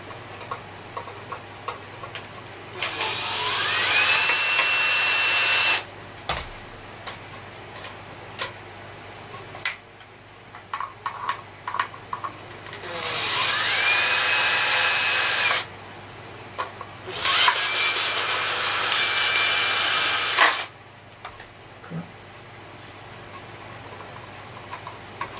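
A Makita power drill backs screws out of a 1973 Hoover Junior 1354A Dirtsearcher vacuum cleaner: three loud whirring bursts of several seconds each, with a pitch sweep at the start of each run and quiet clicks and handling between them.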